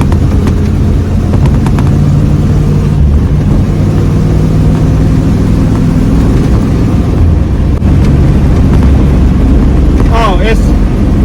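Car engine running loud and close after a Holley 4412S carburetor tune-up, a steady low drone with rising revs near the end, under excited talk.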